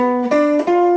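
Three clean guitar notes of an arpeggio are played in quick succession, starting on G, the pitch dropping sharply an octave between the first and second notes.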